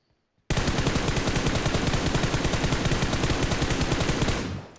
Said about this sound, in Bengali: সামনে ফায়ার হলো